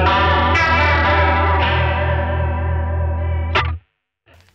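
Electric guitar through the modulation effect of a NUX Trident, a loud sustained distorted chord with deep throbbing wobble, a fresh strum partway, then a sudden cut to near silence.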